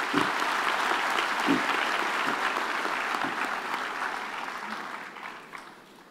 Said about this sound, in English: can we please give her, even though she's not present, another round of applause